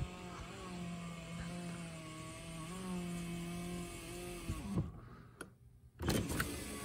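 A Mazda 6 power window motor runs on auto for about four seconds, a steady whirring hum that shifts slightly in pitch, then stops with a thunk followed by a couple of clicks and handling noises.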